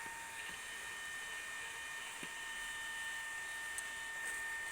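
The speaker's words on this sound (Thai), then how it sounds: "เอาพัดลมเป่า" An electric fan blows in a steady, even whoosh with a faint whine, moderately quiet and constant throughout, with a couple of tiny clicks and no talking.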